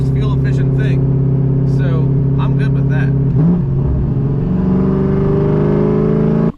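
A loud, lowered Corvette with a cammed engine drones steadily from inside the car while driving, a deep rumbling idle-like tone rising in pitch partway through as it accelerates, with a voice talking over it.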